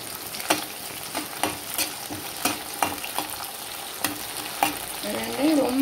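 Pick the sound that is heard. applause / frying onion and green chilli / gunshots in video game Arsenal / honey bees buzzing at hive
frying onion and green chilli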